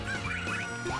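Clucking poultry sounds from chickens in the video game Sonic Lost World, a quick run of bird-like calls heard alone over a steady game background.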